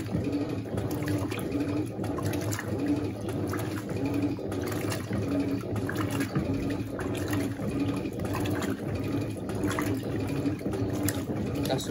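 An Electrolux Blue Touch 12kg washing machine fills with water, a steady, moderately quiet flowing and splashing sound with no talk.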